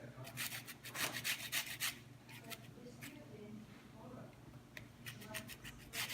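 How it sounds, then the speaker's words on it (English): Lemon zest is grated for a lamb chop marinade, giving close, quick scratchy rasping strokes in bursts, fading out midway and then returning near the end. "We're gonna put lemon zest first."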